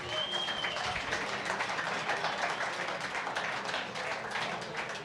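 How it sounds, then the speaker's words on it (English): An audience at a pub talk gives a sustained round of applause, dense overlapping claps at an even level throughout, with a brief voice near the start. "How about another round of applause for Dave?"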